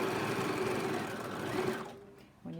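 A sewing machine stitching fabric at a fast, steady pace, a close mechanical whirr that winds down and stops near the end, followed by a faint start of a voice.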